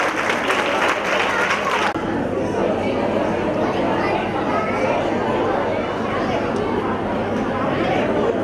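An audience at a children's annual and graduation day applauds to welcome young performers, a dense, steady wash of clapping and crowd chatter throughout, with a louder, brighter burst in the opening seconds.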